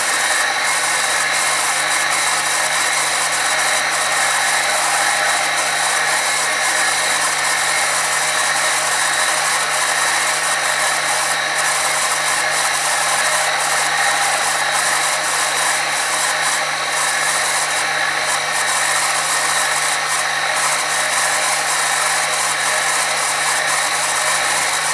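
An electric drill fitted with a 3.5 mm bit whines steadily and close up, drilling holes without a break for the whole stretch, a loud, constant mechanical buzz.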